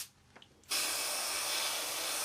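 After a quiet moment with a faint puff, an airbrush spraying thin paint onto a 1/48 scale Su-25 model kit starts a steady, loud hissing spray that continues without a break.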